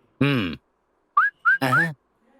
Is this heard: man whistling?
yes